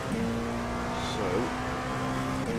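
Hypercar racing engine in iRacing, a steady droning engine note at moderate loudness throughout, with a brief pitch sweep near the middle as revs shift, under faint talk.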